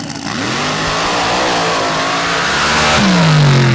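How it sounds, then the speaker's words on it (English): A screw-blown 500 cubic inch Hemi drag car, Bad Trouble 3, makes a pass at a drag racing final. The loud engine revs and climbs steadily, rising to a close, roaring full-throttle scream with no voices. "500 cubic inch screw-blown Hemi power plant in the back of Bad Trouble 3"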